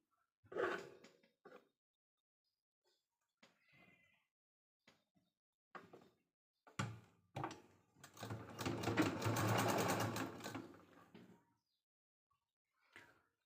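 Close, steady whirring of a household sewing machine stitching around the bottom edge of a fabric bag made from leftover blouse fabric, one run of about three seconds preceded by scattered clicks and handling knocks.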